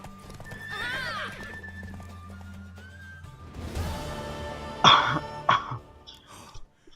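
A horse in The Witcher 3 video game clip-clops, then lets out a loud, shrill neigh and a few snorting whinnies near the end, with a faint voice and game ambience underneath.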